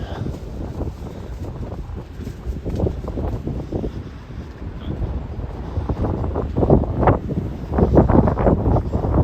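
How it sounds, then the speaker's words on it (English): Strong wind gusts through a city street, roaring and buffeting close against the microphone in heavy irregular surges that swell louder toward the end, with no clear talk over it. "the wind definitely gets more aggressive closer I get to Bloor"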